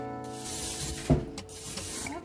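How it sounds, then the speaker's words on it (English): Olive oil cooking spray hissing from a can onto a jumbo muffin pan, a soft continuous aerosol hiss with one brief sharper burst near the middle, fairly quiet and close. "You can use some olive oil cooking spray. Just make sure you coat it generously."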